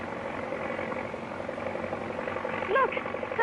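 A propeller airplane engine drones steadily in flight near the Evans Airplane Factory, a continuous mid-loud hum with slight pitch wavering and a brief rise near the end.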